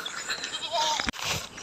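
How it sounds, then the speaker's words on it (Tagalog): A goat bleats twice in quick succession on a farm beside rice paddies, close and fairly loud, with a brief gap between the wavering calls. "Ayan ating mga kambing, nakachimpo si buntis."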